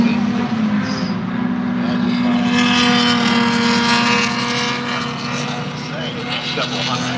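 Race cars, including a small Austin Mini Cooper with a 1.3-liter engine, roar past on a track as the leaders reach the straightaway. The engines drone loudly and steadily, rising and fading, under a voice talking.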